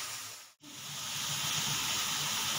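Spice masala sizzles steadily while frying in a pan for a fish curry. The close, even hiss breaks off for a split second near the start, then resumes at full strength.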